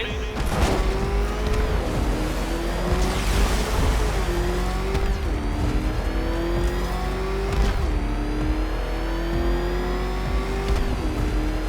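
A worn-out, ramshackle car engine revs hard in a video game, its pitch climbing and dropping repeatedly across a steady loud drone, with brief tire-squeal-like bursts and faint game effects mixed in.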